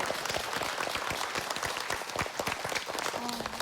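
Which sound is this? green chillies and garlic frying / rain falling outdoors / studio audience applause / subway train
studio audience applause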